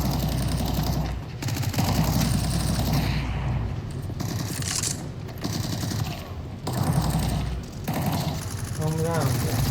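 Rapid automatic gunfire in a first-person video game, sustained bursts of shots with short gaps, loud and close, with a player's voice talking over the action.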